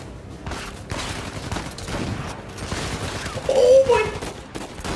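Rapid bursts of gunfire crackle continuously in the video game Uncharted 4, overlapping and muffled in a busy mix, with a louder swell toward the end.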